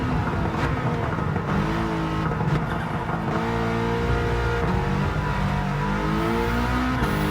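A Subaru race car in Gran Turismo 7 with a short-geared gearbox, its engine droning loud and close as it accelerates through the gears, the pitch climbing and dropping at shifts, with no talking.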